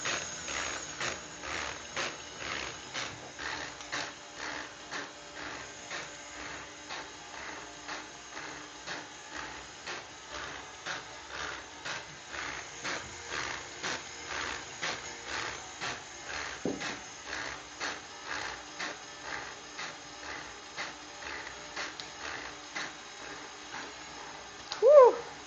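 A KitchenAid sifter and scale attachment mixes flour with a quiet, steady mechanical ticking and rhythmic clicking like a ratchet, evenly pulsing for a long stretch, ending in a brief louder knock.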